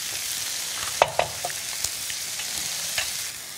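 Seasoning sauce poured into a hot pan of stir-fried sesame leaf shoots sets off a steady, dense sizzle, with a few brief clinks and spatters from the pan over the continuous frying hiss.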